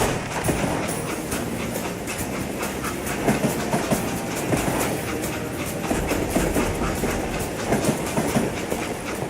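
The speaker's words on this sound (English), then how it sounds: "It was then that Jesse detached the express car from the rest of the damn train" Train running in the Western shooter game Call of Juarez: Gunslinger, a steady rumbling roll with rhythmic clickety-clack of wheels on rails and hissing, moderately loud and continuous, no speech.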